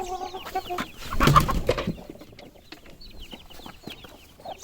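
Aseel rooster and hens feeding together, giving close, soft clucks and short chirping calls in scattered bursts, with one busier cluster of noise near the start.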